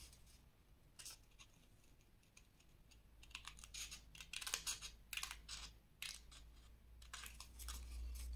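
Scissors snip through paper in a run of short, crisp cuts, shaping a rounded corner for a scrapbook advent calendar; close-up, uneven rhythm, quiet background hum, no talking.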